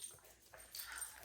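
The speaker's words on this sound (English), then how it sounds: "The dogs." Dogs whimper faintly in the background, a brief soft high whine rising toward the end, with no talk over it.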